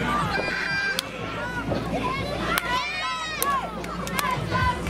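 Cheering, shouting crowd at a wrestling match held at a street fair in the Bronx, a lively babble of voices and yells around the ring with scattered sharp impacts, a commentator talking over it.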